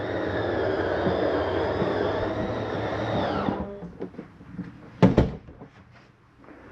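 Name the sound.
Jayco Eagle RV bedroom slide-out retracting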